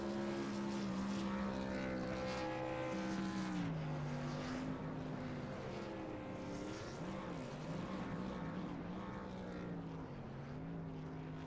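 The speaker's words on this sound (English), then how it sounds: "We'll see some burnouts from the 56 as he comes back across the line" A race truck in a motorsports racing video game performs burnouts at Phoenix after a win, its engine droning and wavering in pitch continuously with tire noise, loud and steady throughout.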